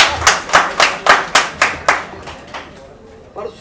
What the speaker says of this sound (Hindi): तालियां हो जाए तालियां।